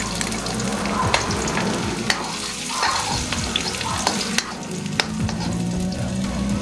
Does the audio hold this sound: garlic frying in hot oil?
yes